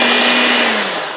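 A blender whirs continuously, blending biscuit dough with cardamom powder, loud and close, a steady high motor drone that eases slightly toward the end.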